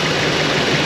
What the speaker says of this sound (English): I'll do a snap throttle check first.